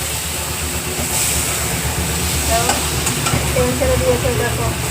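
Pointed gourd fries in oil in a pan while being stirred, a dense close sizzle with continuous scraping and rattling of the utensil against the pan, no talk.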